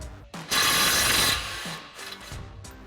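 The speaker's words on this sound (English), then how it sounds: "remove our outer tie rod nut using our 21mm socket on our impact" An impact wrench with a 21mm socket spins off the outer tie rod nut on a 2015-2020 Ford F-150, one loud close burst of about a second followed by quieter clicks and handling noises.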